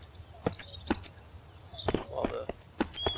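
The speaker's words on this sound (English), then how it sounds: "while the birds are still singing." Birds chirping and tweeting in the survival game Mist Survival, scattered short calls heard at moderate distance alongside sharp knocking sounds from in-game work, with no speech.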